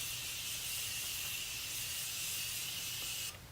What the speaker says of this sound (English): I'm going to set my face with my Morphe Continuous Setting Spray